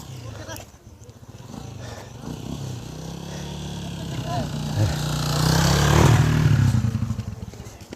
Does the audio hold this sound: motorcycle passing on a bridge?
yes